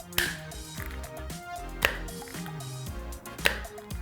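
A Belkin MagSafe clear phone case snaps onto a phone magnetically, giving three sharp clacks spaced well apart, close and distinct, over faint background music with no talking.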